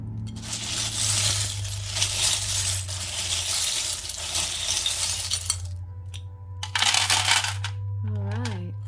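Small charms and a marble clinking and rattling against one another as they are handled and shaken for a weekly love tarot reading, with a steady low hum underneath and brighter clinks near the end.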